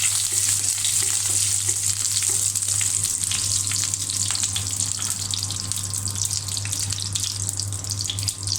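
Whole cumin seeds and a bay leaf sizzle steadily in hot oil, a dense continuous crackle with a low steady hum beneath, close and fairly loud, no voices.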